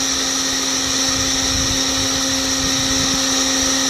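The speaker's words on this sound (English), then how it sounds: "with this heat gun, it doesn't take long at all" A heat gun blows into charcoal in a small Weber Smokey Joe grill with a loud, constant whirring roar and steady hum tones, close and unbroken throughout, with no talk.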